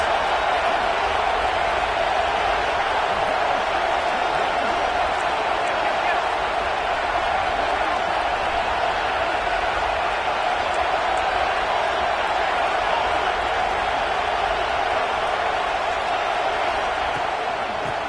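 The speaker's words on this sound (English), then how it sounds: "This crowd trying to make life miserable for this offense." Continuous roar of a football stadium crowd at a Notre Dame game against Utah State, a dense, steady wash of distant voices filling the whole stretch without letup.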